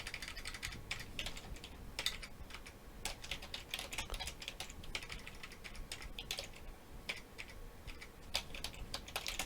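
Someone types on a computer keyboard at a steady, uneven pace, the key clicks quiet and close with no one speaking.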